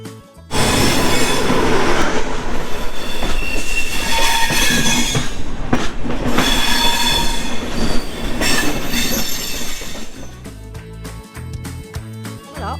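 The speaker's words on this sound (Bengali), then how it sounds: "এখানে আমাদের ট্রেনটি বিশ মিনিটের একটি লম্বা বিরতি দেয়" The Howrah–Puducherry Express rumbles loudly into a junction station with rattling cars and high wheel squeals, then the noise thins into separate clanks and knocks as it slows.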